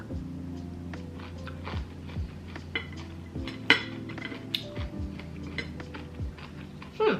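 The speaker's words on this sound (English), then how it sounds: "So I'm just gonna chop it up on my plate." Metal cutlery knocks and scrapes against a plate while mustard leaf kimchi is chopped up on it, giving a string of light clinks and taps at an irregular pace, close and fairly quiet with no talking.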